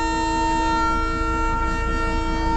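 Darjeeling toy train standing at Batasia Loop, sounding a loud, steady whistle with sustained tones that hold unbroken from start to finish, close by with no talking.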